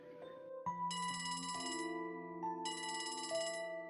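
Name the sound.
phone ringing in video game Trails from Zero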